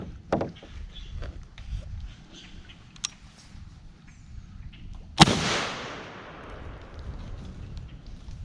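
A shotgun blast aimed at grackles from a pirogue on the water, a single sharp loud report with a rolling echo tail, following a faint earlier pop, with outdoor ambience around it.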